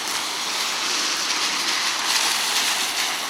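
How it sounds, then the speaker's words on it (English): Steady drizzling rain on a wet day in Rego Park, Queens, New York, a constant soft hiss of drops with no break and no voices, fairly close and even in level throughout. "rain is drizzling"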